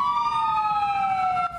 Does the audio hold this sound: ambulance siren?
yes